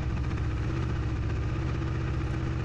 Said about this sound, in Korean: 자, 시동 한번 들어보시죠.